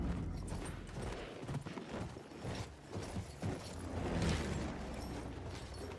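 Horse hooves clop in the Battlefield 1 video game while riding, an uneven run of muffled thuds mixed with battle rumbles and distant explosions at low level, with no speech over them.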